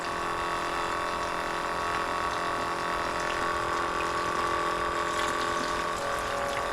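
Pump draining water from the 15-gallon fuel tank of a Jeep CJ7, a steady motor whine over continuous gushing liquid flow, close and constant, with no talk.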